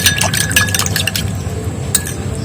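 Coconut oil hair oil blend being mixed in a container, with light liquid sloshing and small glassy clinks and taps through the first half, then a sharper clink near the end, close up with no talk.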